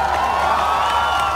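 Steady wash of audience applause and cheering at a live comedy show in Sikar, loud and continuous throughout with no break.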